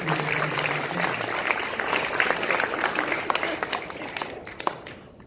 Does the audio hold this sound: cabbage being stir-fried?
no